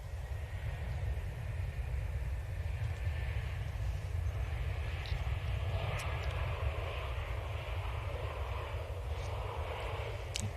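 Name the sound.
EasyJet Airbus A320neo from Nice arriving at Manchester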